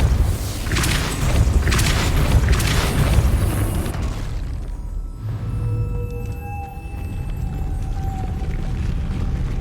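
Depulso force spell cast in Hogwarts Legacy, a deep booming burst with a rumbling low roar that fades after a few seconds into quieter game ambience with faint tonal hums.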